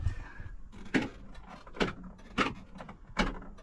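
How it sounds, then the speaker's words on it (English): Power door locks on a Toyota Dyna cabover diesel dually truck clunk several times in a row, five short sharp mechanical thunks spaced under a second apart, close and quiet inside the cab. "I'm gonna push this. That's gonna lock both doors and unlock both doors."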